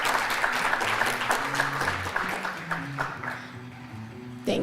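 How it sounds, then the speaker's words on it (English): A conference audience at a gender-equality event applauds a speaker: dense, even clapping from a medium-sized crowd throughout, with a few voices faintly underneath. "let's give a round of applause for Inga"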